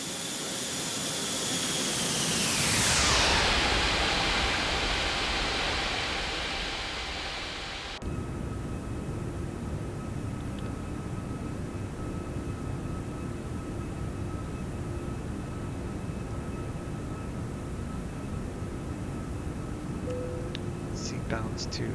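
A Toliss A340-600 airliner in a flight simulator roars past in a flyby. Its engine noise swells to a loud peak with a falling whine, then cuts to a steady, even cockpit hum.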